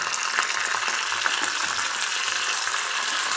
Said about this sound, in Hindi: अब इसे हम थोड़ा क्रिस्पी होने तक फ्राई करेंगे